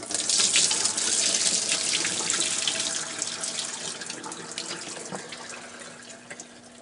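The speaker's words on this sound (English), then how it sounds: "And now we see how easy it is to dump it down the sink." Pasta water pouring from a pasta boat into a kitchen sink, a loud rushing splash that gradually tapers into a thinner trickle and a few drips near the end.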